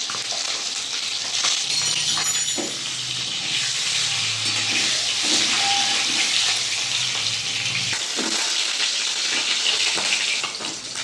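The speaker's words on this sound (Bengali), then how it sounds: "ডিমগুলো আমি ভেজে নেবো তেলে দিতে।" Eggs fry in oil in a pan, giving a loud, continuous sizzle and crackle that holds steady throughout, with occasional clinks and stirring.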